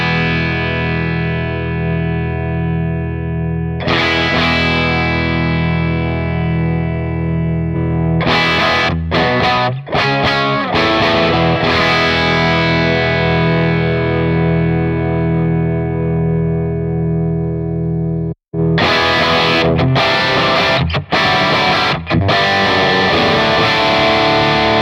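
Electric guitar played through an Analogman King of Tone overdrive capture into a Matchless Chief 100 amp, a loud, continuous driven tone of sustained chords and riffs with brief breaks and a short dropout near the end.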